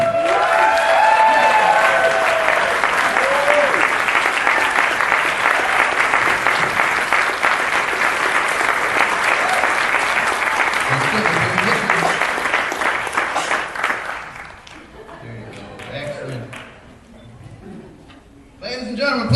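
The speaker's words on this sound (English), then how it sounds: "Ladies and gentlemen, please give another big round of applause." Loud, dense audience applause for a novice-division entrant dressed as the 11th Doctor at a Doctor Who fan convention costume contest, sustained for about fourteen seconds before tapering off into scattered claps and murmuring.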